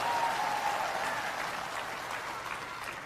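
Applause from a crowd at a political rally in Punjab, a dense steady wash of clapping that holds throughout and fades slightly toward the end.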